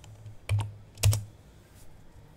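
Computer keyboard typing in short bursts: two clusters of close keystrokes about half a second apart, crisp clicks over quiet room background, no voice.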